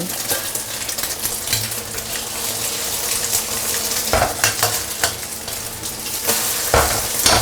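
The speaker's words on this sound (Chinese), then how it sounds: "直接下入我们打散的鸡蛋， 先不要动它，让它慢慢定型。" Beaten eggs poured into cold oil in a wok and left to set, a continuous loud sizzle of frying with occasional clinks and scrapes of utensils against the pan, and no voices.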